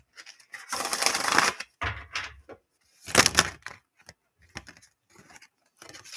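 A tarot card is pulled from the deck amid close, papery shuffling and sliding bursts. Small taps and rustles follow, with no voices.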